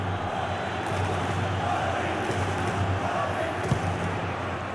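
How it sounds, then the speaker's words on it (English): A stadium crowd roaring in a Real Madrid versus City match in EA Sports FC Mobile, a steady broad wash of cheering and chanting at moderate distance with a brief thump. "The crowd certainly think so. Just listen to them."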